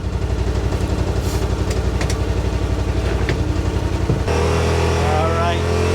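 Yamaha RMAX side-by-side engine idling, a loud, steady pulsing drone close by that continues through a sudden shift in tone partway through, with a person talking over it.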